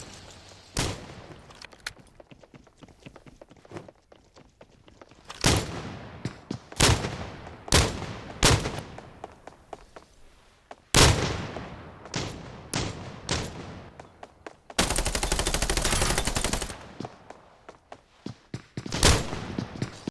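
Gunfire rings out in a shooter video game: scattered single shots and rapid volleys of varying loudness, with thumps mixed in and one sustained dense burst late on, heard mostly without talking.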